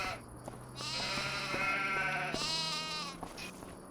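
Hungry sheep in a farming video game bleat loudly and continuously, with several overlapping calls running together.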